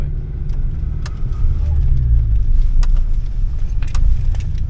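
A Fiat Uno Turbo ie, a car without power steering, turns around with a low, steady engine rumble that rises slightly, up close from inside the cabin, with a few clicks and rattles and occasional voices.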